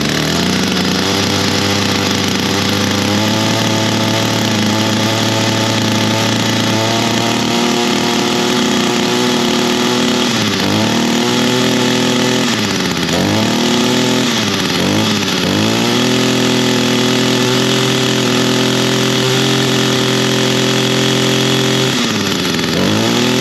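A small two-stroke engine, of the kind found on a Stihl hedge trimmer, Echo string trimmer or Craftsman chainsaw, runs loud and close with the choke off, idling steadily and then revving up and down several times in quick bursts.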